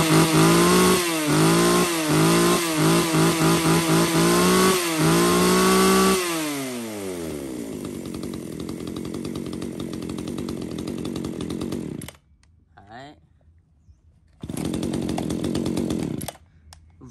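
A small used Japanese two-stroke chainsaw weighing just over 3 kg runs loud and close, revving hard in quick bursts, then dropping to a rough idle before cutting out briefly and roaring back up.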